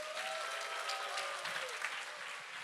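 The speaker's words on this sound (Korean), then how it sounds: "우리 장로님 나오실 때 사랑하는 마음으로 큰 박수로 환영하도록 하겠습니다." A church congregation at a Sunday worship service applauds to welcome an elder, giving steady, dense applause throughout with no voices heard.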